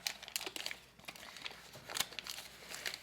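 Quiet crinkling and rustling of a paper towel being pulled and torn off in a kitchen, a series of short irregular crackles close by.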